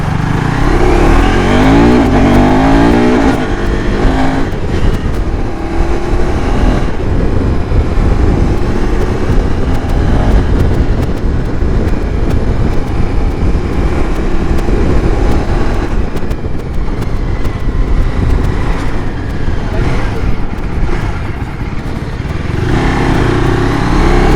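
A KTM Adventure 390X motorcycle cruising at steady speed on cruise control, its engine drone held constant under heavy roaring wind buffeting the microphone throughout.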